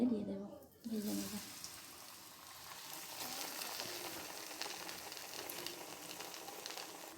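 A breadcrumb-coated vegetable roll fries in hot oil, a soft continuous bubbling sizzle that rises after a brief quieter moment and holds steady, fairly close and moderately quiet.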